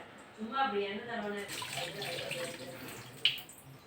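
Rice and moong dal being washed in water for sweet pongal: a soft, steady swish and slosh of water lasting throughout, with a brief voice-like murmur near the start and a sharper splash near the end.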